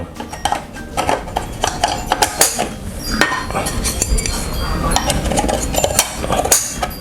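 A metal waffle plate is slotted into an Airbot WM101 waffle maker, making loud close clinks, clanks and scraping knocks in an irregular series with no talking.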